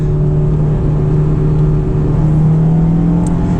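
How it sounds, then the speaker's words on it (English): A Honda S2000 with a manual gearbox drones steadily from inside the cabin on a winding road once closed for winter ice. The engine note is loud and even, with no voices. "I'm going to downshift here."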